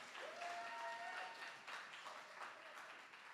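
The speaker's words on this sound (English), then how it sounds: "And a big round of applause for both of our poets, Shahada and altogether Lisa." An audience at a poetry festival competition applauds the poets, a dense, steady wash of clapping from a crowd that fades slightly toward the end, heard at a distance.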